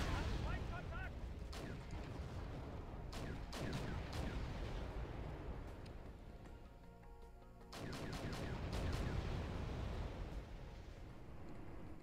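Concentrated gunfire and artillery fire rage through a tank battle in Wargame: European Escalation. Sharp shots and heavy blasts crack in dense, uneven clusters over a continuous rumble of battle.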